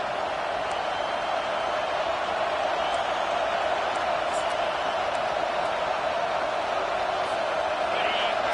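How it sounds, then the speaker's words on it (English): A football stadium crowd roars as one continuous, dense wall of noise that stays loud and steady throughout, with a commentator's voice faintly under it. "And here comes the noise."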